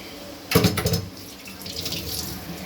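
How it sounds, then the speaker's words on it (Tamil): Soaked tamarind water is poured into a Chettinad crab curry, giving a brief close splashing gush that settles into a softer steady trickle with no talking. "கலக்கி வச்சுருக்க புளி ஊற்றுறோம்"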